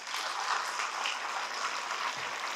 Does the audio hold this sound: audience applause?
yes